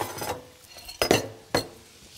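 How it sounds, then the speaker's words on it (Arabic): Mushrooms fry in oil in a pan while a utensil stirs them, giving a few distinct metallic scrapes and clinks against the pan over a faint background. "والمشروم اعملوها بالزيت وتبقى كلها بالزيت. انا عماله اقلب اهو لسه شويه."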